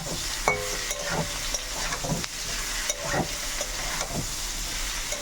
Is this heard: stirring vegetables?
yes